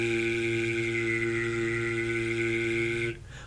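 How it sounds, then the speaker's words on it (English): One person whistles and sings at once, a steady sung note layered with a high whistled tone, held evenly for about three seconds and then breaking off abruptly, close and alone. "If you were to actually just whistle and sing at the same time,"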